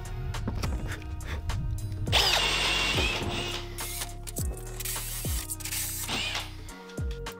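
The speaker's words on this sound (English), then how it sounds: "This little grinding wheel worked perfectly for cutting through the fiberglass." A small grinding wheel cuts through fiberglass in a van being built into a camper, giving a loud, sustained abrasive whine with rising and falling pitch and several sharp knocks and pauses between passes.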